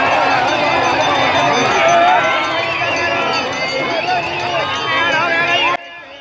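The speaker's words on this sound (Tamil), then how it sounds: "அங்கே பாருங்கள், பக்தர்கள் ஆரவாரம் போட்டு வரவேற்கிறாங்க." Dense festival crowd of devotees at the Veerappur Padukalam celebration, cheering and shouting in welcome with overlapping voices and hubbub, loud and continuous before cutting off abruptly near the end.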